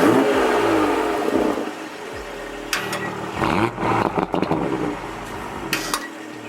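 A Toyota Supra engine revs in several bursts with sharp exhaust pops and crackles, fairly loud and close, with idle rumble settling between blips and no talking.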